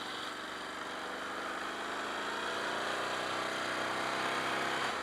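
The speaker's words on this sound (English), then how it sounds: "Oh man, I like the exhaust on this." A Ducati Scrambler 1100 motorcycle engine and exhaust holding a steady, even drone while riding, with a continuous smooth rumble and no breaks or audible talk.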